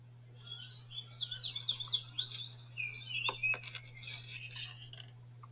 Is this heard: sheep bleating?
no